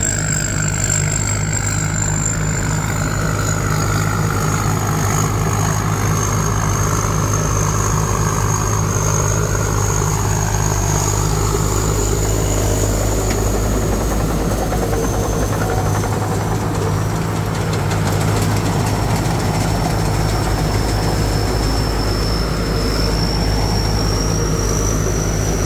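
A combine harvester's heavy Hino J4 diesel engine runs steadily with a deep, constant rumble and a high whine, loud and close throughout.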